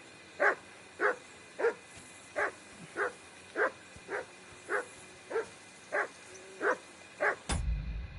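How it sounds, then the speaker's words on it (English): A dog barks repeatedly at an even, steady pace, a dozen or so moderate single barks in a quiet setting, ending with a sudden burst of louder low rumble. "Get that mutt of yours to stop barking, will you?"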